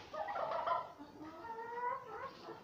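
Turkeys gobble and call during a fight, with a burst of harsh, rattling gobbles followed by a longer wavering call, fairly close and clear over a quiet background.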